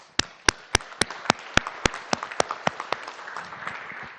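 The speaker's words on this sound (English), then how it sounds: "I want to actually give a big round of applause to the individuals that are back at home too" Council meeting audience applauds veterans' families, opening with several sharp, evenly spaced loud claps that blend into a denser, fading patter of clapping from many hands.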